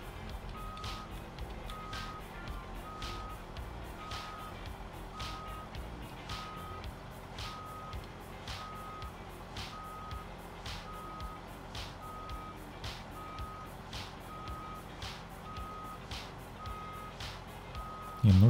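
Steady reversing alarm from a truck in the SnowRunner game, a regular train of evenly spaced beeps repeating throughout over a low engine rumble, with no voices.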